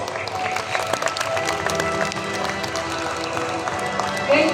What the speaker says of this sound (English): giving them a huge round of applause